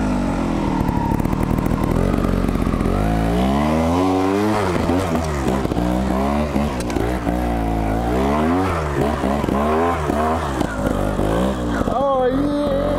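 A Gas Gas TXT 280 trials motorcycle is ridden close by, its engine revving up and down in repeated bursts and throttle blips over several seconds, loud and steady.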